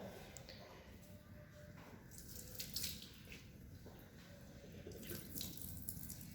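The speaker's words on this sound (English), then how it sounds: "And we are going to cool this solution under tap water." Tap water running steadily over a glass test tube of aluminium nitrate solution during a chemistry salt-analysis practical, a continuous faucet splash and trickle heard close up.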